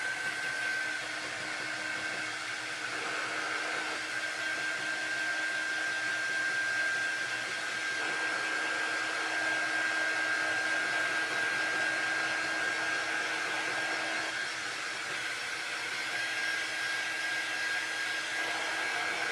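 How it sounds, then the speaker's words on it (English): A small handheld hair dryer blows steadily on chalk paste, a continuous close whirring hiss with a faint high whine that holds level the whole time, no talking. "take my air dryer, my little air dryer, and we're going to dry our chalk paste"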